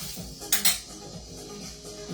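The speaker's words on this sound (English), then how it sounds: "And then we're going to stir that to get it nice incorporated there." A spoon clinks against the glass while stirring a Sprite mixed drink, two quick bright chimes close together and then quiet swirling.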